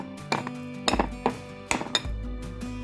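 Metal pots and a frying pan clink and clatter on a kitchen stove while a simple Jamaican breakfast is cooked, with several sharp knocks in short bursts, fairly close and with no talking.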